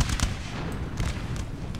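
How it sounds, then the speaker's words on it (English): Musket volleys in Napoleon Total War's multiplayer battle, dense overlapping crackles of gunfire rolling on continuously with loud sharp bursts over a heavy rumbling battle backdrop. "Give him a volley, boys."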